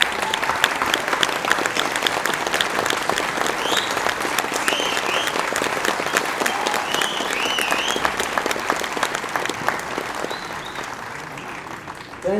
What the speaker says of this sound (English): And we deserve a big round of applause.